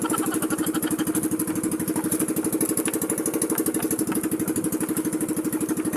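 Small boat motor running steadily while fishing with nets at night, a loud, even, rapid putter that stays close and constant throughout.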